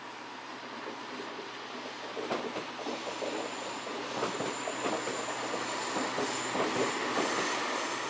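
A train on the Danube Valley railway pulls away, its rumble and clattering wheels building gradually with faint squealing, a steady rolling noise growing slightly louder from a moderate distance, with no talk.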